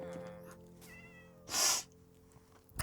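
A cat gives a single clear meow, close and fairly loud, standing out against a quiet background of faint game music and hum.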